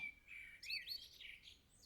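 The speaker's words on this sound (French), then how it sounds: "écoute un peu les oiseaux" Small birds chirp and tweet in quick bright bursts, several overlapping calls close by in a quiet spring setting.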